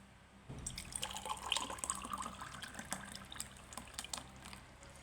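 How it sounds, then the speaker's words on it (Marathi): Homemade lassi pours into a glass in a soft, close trickle and glug lasting several seconds, fairly quiet, with no speech. "आता ग्लासमध्ये लस्सी टाकणार आहे बघूया"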